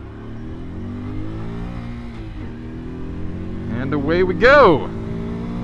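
A 2023 Honda Super Cub C125 motorcycle pulls away with a steady engine drone that rises as it accelerates, heard close up under a voice talking.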